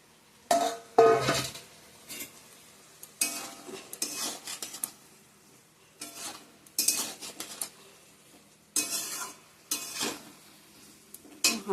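A utensil stirs fried taro and potatoes into a spice masala in a pan. It scrapes and clatters in short, separate bursts, with quiet gaps between the strokes.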